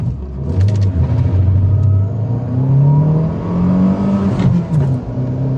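A car running on E10 fuel drives past and accelerates, its engine rising to a steady rumbling rev that holds close and loud throughout with no talking.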